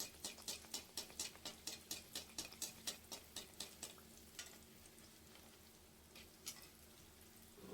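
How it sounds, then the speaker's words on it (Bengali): Layered Bihari khaja pastry deep-frying in hot oil, opening with a quick, regular run of crisp pops and ticks that fades into a softer, steady sizzle with a few scattered crackles. "সেম প্রসেসে দ্বিতীয়টা ভেজে নেব।"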